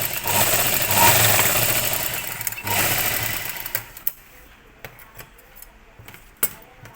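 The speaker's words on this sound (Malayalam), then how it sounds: "രണ്ട് ഷോൾഡറും സ്റ്റിച്ച് ചെയ്യാം." A sewing machine stitches the shoulders of a half petticoat, whirring loudly and steadily for about three seconds, then giving way to scattered clicks and handling sounds.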